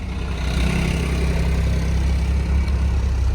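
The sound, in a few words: tractor engine running on the highway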